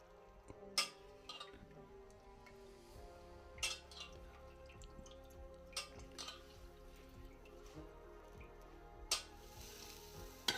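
Chopped onion fries in oil on a griddle pan (tava) for a traditional village-style ghaypat bhaji, giving a quiet, steady sizzle broken by scattered sharp pops and crackles, with no voices.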